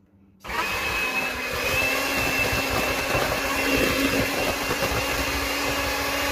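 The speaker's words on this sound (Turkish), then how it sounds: "Şimdi mikserimizi koyduk ve başlatıyoruz." An electric mixer switches on abruptly and runs with a steady, loud whirring drone for several seconds, no voices over it.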